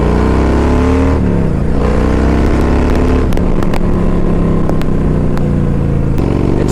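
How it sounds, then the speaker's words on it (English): A 2.0 liter Kawasaki cruiser motorcycle is being ridden, its engine a loud, deep, continuous rumble close by. The pitch shifts as the rider rolls the throttle on and off, with wind noise and a few sharp clicks over it. "It's just a good, big, bad cruiser bike."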